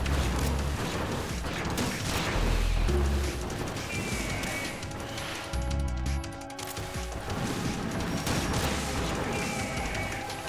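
Gunfire and combat noise from the PS2 video game Metal Gear Solid 2, dense, loud and continuous, with repeated shots, metallic clanks and crashes over a droning game soundtrack.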